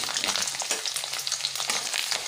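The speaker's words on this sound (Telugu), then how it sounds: "ఒక బాండిలో నూనె పూసుకొని నూనె వేడైనాక కొంచెం ఎల్లిపాయలు, శనగపప్పు, పచ్చి ఎండుమిర్చి ఇవన్నీ" Onions, chana dal and dried chillies frying in hot oil in a pan, a dense, continuous crackling sizzle heard close up with no talking.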